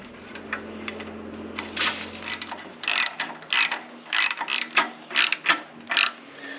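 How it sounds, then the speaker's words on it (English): A ratchet tightens bolts on a Briggs & Stratton 6.75 carburetor from a log splitter, giving bursts of quick, close clicking strokes that grow louder and more regular toward the end, with no talk. "Once you got them all started, go ahead and tighten them down."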